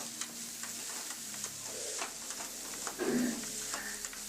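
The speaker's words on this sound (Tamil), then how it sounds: "இப்போ எல்லாத்தையும் ஒன்றா சேர்ந்து வதக்கிக்கலாம்." Beans and carrots sauté in a pan for a noodle dish, with a soft, continuous sizzle broken by scattered scraping and clinking as a utensil stirs, all fairly faint.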